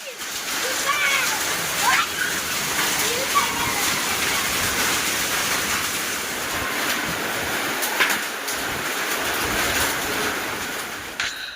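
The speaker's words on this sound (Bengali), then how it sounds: "হালকা হালকা বৃষ্টি পড়তেছে আর সাথে বাতাসও বইতেছে" Light rain falls steadily with wind on a rural homestead near mango trees and a tin roof, a continuous broadband hiss that holds at an even level throughout with a few brief louder spatters.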